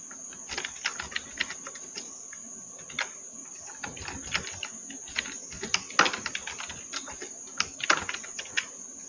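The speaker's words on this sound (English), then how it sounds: "I'm going to click and type a file name for this PDF." Keys tapped on a computer keyboard while entering a file name, a scatter of soft, quiet clicks in irregular bursts over a steady high electronic whine.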